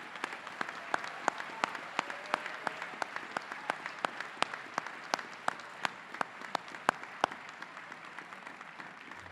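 Audience applause at a 2019 commencement ceremony, heard as a thin, steady patter of separate claps with sharper individual hand strikes standing out, moderately distant and continuing evenly throughout.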